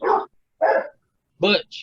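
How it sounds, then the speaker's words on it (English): A dog barks three sharp times in quick succession, then gives a short, higher yip. The barks are fairly clear with quiet gaps between them. "That's my dog."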